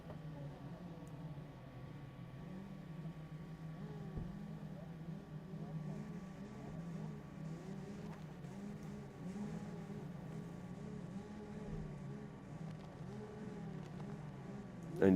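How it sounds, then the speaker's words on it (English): Amateur DD2 racing kart engines at a Latvian karting championship revving on the grid before a race, forming a steady layered drone whose pitch wavers and rises slightly throughout, heard from a moderate distance. "you can hear the engine notes rising as our amateur DD2 drivers get ready to take to the circuit"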